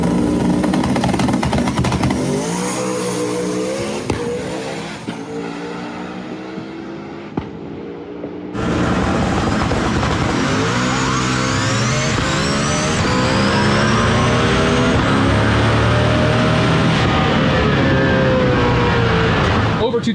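A 2000-horsepower Nissan VK56 V8 race engine roars loudly and continuously, its pitch rising and falling as it revs, with a short dip before it surges again at full volume; voices may sit under the noise.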